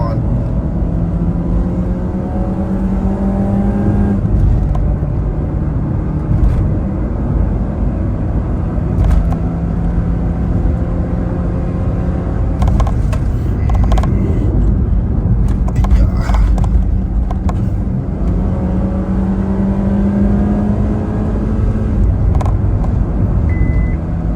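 A tuned Honda Freed with an S91 tune accelerates hard during a speed test, its engine note climbing in pitch through several long pulls with gear changes, loud and steady over continuous road noise.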